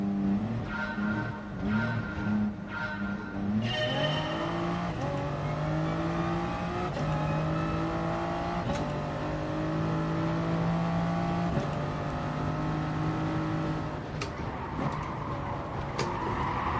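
Porsche 911 race car in a racing video game, its engine droning and revving steadily with rising and shifting pitch through gear changes, loud and continuous with faint tire noise, no talk.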